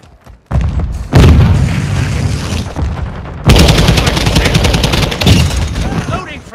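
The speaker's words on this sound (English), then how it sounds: "Grenade out." Grenade blast in Call of Duty: Modern Warfare II: loud, close booming bursts that hit hard and roll on as sustained broadband rumble, mixed with rapid gunfire throughout.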